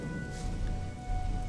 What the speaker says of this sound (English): This rain is a bit over the top, isn't it?